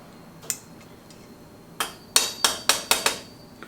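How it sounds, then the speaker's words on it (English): A golf club head fitted onto the shaft during a reshafting job, heard as a few sharp close taps, then a quick series of five or six evenly spaced hard knocks with quiet between. "Next, I'm going to go ahead and put the club head on the shaft."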